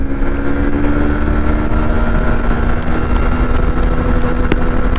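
A motorcycle accelerates hard through first and into second gear on an open road, a steady loud engine drone heavily buffeted by rushing wind noise.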